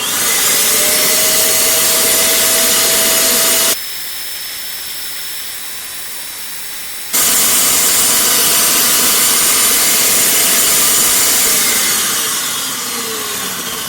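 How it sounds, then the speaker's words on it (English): A loud vacuum cleaner roars steadily, drops to a softer, muffled drone for a few seconds, then returns at full strength before easing slightly. "I'm going to turn it on before I start trying to melt it"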